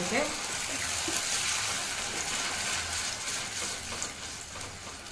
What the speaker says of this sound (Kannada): ಇವಾಗ ನಾವು ರುಬ್ಬಿಟ್ಟಿರುವ ಟೊಮೆಟೊನ ಹಾಕೋಣ ಇದನ್ನು ಹಾಕೊಂಡ್ಬಿಟ್ಟು ಸ್ವಲ್ಪ ಮಿಕ್ಸ್ ಮಾಡ್ಕೊಳ್ಳೋಣ